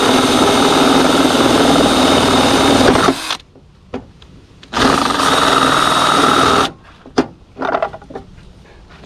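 A power drill bores through layered material while fitting boat trailer guide posts, running loud and steady for about three seconds, stopping, then grinding again for two more seconds before quieter intermittent bursts and pauses.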